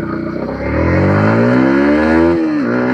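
A Yamaha MT-15 motorcycle accelerates hard from a standstill toward 100, its engine note rising steadily and loudly close by before briefly dipping at a gear change and pulling again.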